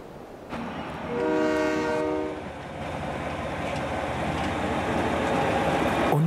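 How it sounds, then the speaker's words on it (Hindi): Vulkan Express tourist train on the Eifel rail line in Germany sounds a loud, sustained horn chord for about a second and a half, then keeps rumbling and clattering along the track at close range. "एक रेल लाइन का निर्माण किया गया, जो अब पर्यटकों के बीच वुल्कान एक्सप्रेस के नाम से मशहूर है"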